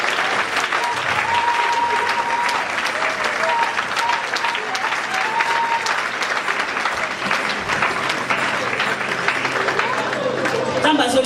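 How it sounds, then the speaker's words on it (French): A church congregation at a women's convention in Liège, Belgium applauds loudly and continuously, a dense wash of clapping with voices and cheering mixed through it. "Acclame très fort pour le Seigneur."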